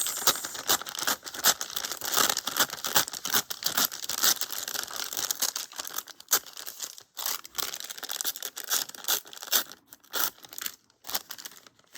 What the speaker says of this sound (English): And I'm gonna tear the 3 sides like this.